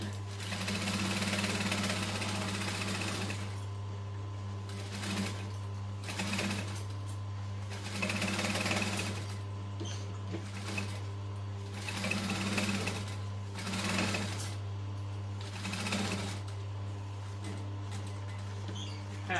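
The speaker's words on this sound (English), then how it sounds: "I'm just going to back stitch on the short edges to reinforce those straps" A sewing machine runs steadily in loud bursts, back stitching over the short edges of fabric straps on a bum bag, with a constant motor hum under repeated short stitching runs and brief pauses between passes.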